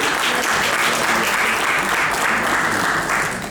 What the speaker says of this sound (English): I would request everyone to give a big round of applause to our team.